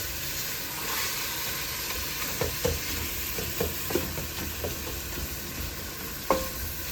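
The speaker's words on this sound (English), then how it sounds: "So we'll put in the tomatoes and let them cook for a bit." Tomatoes cook in a pot for coconut bean stew, giving a soft, steady sizzle broken by a few light stirring scrapes and clicks, close and fairly quiet, with no talking.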